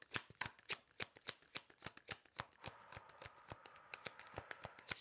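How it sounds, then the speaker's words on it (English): A tarot card deck riffled and cut by hand up close, a steady run of crisp snapping card flicks with a soft rustle between them, no talking. "let's cut the deck"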